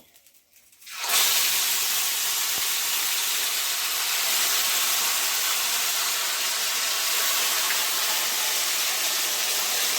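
Marinated raw fish pieces are laid one by one into hot oil seasoned with dried red chillies and bay leaves for a Bengali fish curry. After a second of quiet, a loud, steady, close sizzle starts and carries on without a break.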